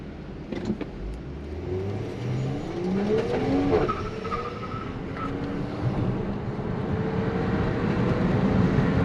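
A 2020 BMW X3 M40i SUV accelerates hard nearby, its exhaust note climbing in rising sweeps through several gear changes before fading into steady road noise.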